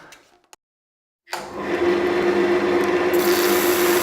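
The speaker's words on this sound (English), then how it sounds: "we're using the speed of the rotating item to drive the sanding head" Chestnut wood spinning on a lathe while a 180-grit abrasive sanding head presses against it, a steady loud whirring rasp that starts abruptly after a brief silence and continues alone.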